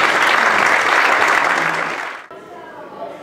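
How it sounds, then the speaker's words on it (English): Loud, dense applause from an awards ceremony audience honouring community groups, sustained for about two seconds before cutting off abruptly, leaving quiet room tone with faint voices. "Let's give all of our groups a huge round of applause."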